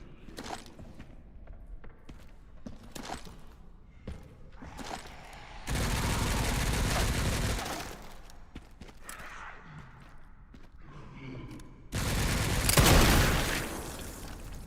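Enemy gunfire in Resident Evil 9, bursts of loud, dense shots in two long volleys, broken up by footsteps and scattered thuds, with no talking.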